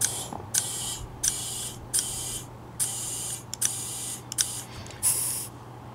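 A powerchair tire is pumped up with air in quick, even hissing bursts, about one every second. Each burst is close and crisp, with short pauses between them.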